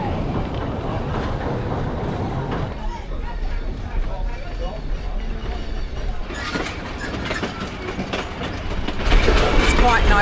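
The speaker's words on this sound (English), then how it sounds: "Before long, it's time to get back on the train." Heritage Gympie Rattler train rolling through the Mary Valley, a steady loud rumble and rattle of carriages with rhythmic clickety-clack from the wheels, swelling louder toward the end, with faint chatter from passengers mixed in.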